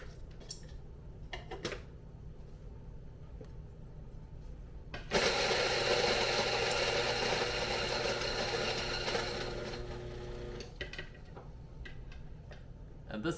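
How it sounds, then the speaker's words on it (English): A coffee grinder purging a handful of beans runs for about five seconds, a steady whirring grind that starts and stops abruptly, set between quieter clicks and handling noises. "I'm also gonna purge my grinder"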